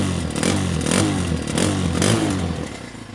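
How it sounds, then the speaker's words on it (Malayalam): A Kawasaki KLX 230RS motorcycle idles close by, its exhaust giving a steady, throaty rumble that swells in a few gentle revs over about three seconds, with no voices. "അപ്പോൾ ജസ്റ്റ് ഇതിൻ്റെ എക്സോസ്റ്റ് കൊണ്ടൊന്ന് കേൾപ്പിച്ച് തരാം"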